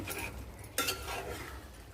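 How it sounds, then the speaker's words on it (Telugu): A utensil stirs bottle gourd kurma curry with yogurt in a pan, quiet scraping and soft clinks with one sharper scrape partway through, close and faint, no talk. "పెరుగు పచ్చివాసన పోయే వరకు బాగా మిక్స్ చేసుకోవాలండి"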